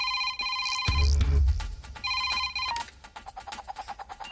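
A phone rings in a Telugu film scene, electronic ringtone bursts in repeated pulses with a deep thud and other scene sounds between the rings.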